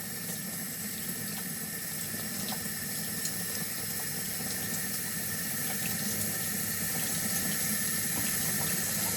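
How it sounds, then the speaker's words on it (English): Water pours steadily from a tap into a sink, a continuous close rushing splash with no talking. "I'm just gonna run my water here to get some warm water"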